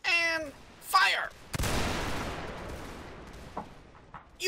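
Regiment firing a musket volley in Mount & Blade Warband Napoleonic Wars during a naval assault, a sudden loud crackling burst that rolls and decays over a few seconds, preceded by short shouted voices and followed by scattered later shots.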